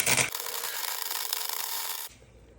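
A small portable 110V welder lays a bead to fill a gap in metal, a close, steady crackling buzz of about two seconds that stops abruptly.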